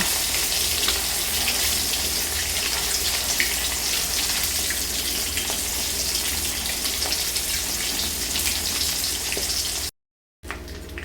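Fish heads crackle in hot oil in a pan for a bottle gourd curry, a loud, dense, unbroken frying hiss up close, with a short dropout near the end.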